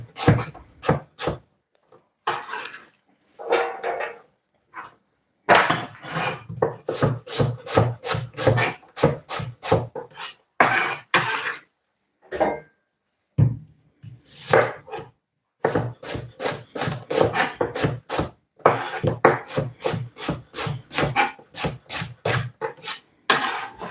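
Knife chopping an onion on a wooden cutting board, with rapid bursts of crisp, close taps broken by short pauses, loud and steady with no talking.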